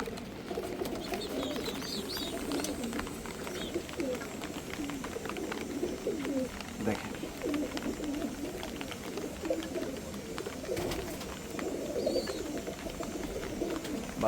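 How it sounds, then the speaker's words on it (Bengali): Pigeons coo softly and repeatedly in a rain-wet loft, low murmuring calls overlapping at a moderate distance over faint background noise. "এই জায়গায় আরও কিছু কবুতর আছে"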